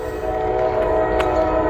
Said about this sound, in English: get yourselves ready for a potential train meet here. We got a train down there and a train up there.